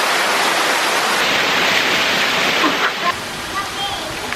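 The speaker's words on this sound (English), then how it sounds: "There they are, splashing around." Water rushes and churns in a jungle hot spring pool as people splash about, a loud continuous wash with a few brief sloshes near the end.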